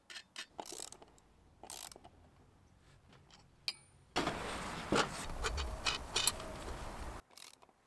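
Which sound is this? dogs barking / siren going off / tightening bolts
tightening bolts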